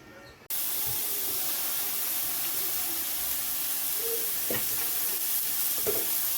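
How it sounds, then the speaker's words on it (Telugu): Steady, loud hissing sizzle of onions frying in a pan, with a few scraping stirs and a short bump at the start. "ఉల్లిపాయలు వేగుతున్నాయి కదండి"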